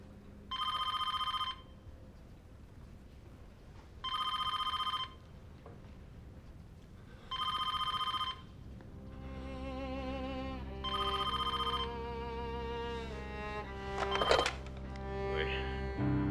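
A telephone bell rings in three clear, evenly spaced bursts, then gives way to louder music with rising tones at the end.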